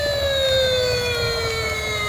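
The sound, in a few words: knockoff toy red fire truck siren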